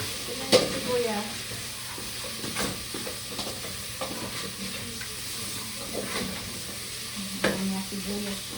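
Chopped onions sizzle and fry in a pan while a utensil scrapes and stirs with scattered knocks, over a steady hiss of cooking and faint background hum.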